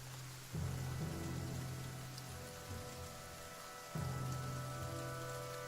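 Rain falls over a bog in the video game The Banner Saga 2, a steady, soft hiss of drops with a low droning undertone that swells twice, no voices.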